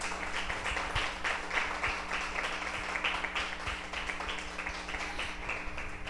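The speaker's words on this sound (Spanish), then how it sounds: "Denle al Señor un aplauso de alabanza." A church congregation claps in praise during a Spanish-language sermon, steady rhythmic clapping from many hands throughout, moderately loud and fairly close, with no one speaking over it.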